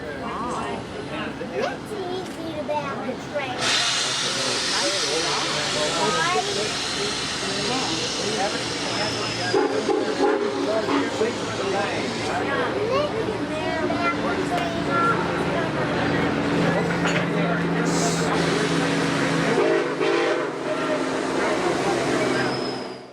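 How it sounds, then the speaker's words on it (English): NKP 765, a steam locomotive, backs up onto its passenger cars on a mainline, a loud continuous hiss and rumble with chuffing texture, and a narrator talks over it throughout. "765 backing up onto the passenger consist for the return trip back to Detroit"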